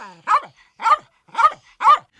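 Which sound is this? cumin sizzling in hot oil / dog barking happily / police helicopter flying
dog barking happily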